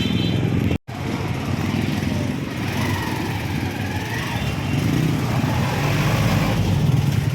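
A motorcycle with sidecar drives along, its engine droning loud and steady with slight rises in revs and road rumble, broken by a brief dropout near the start.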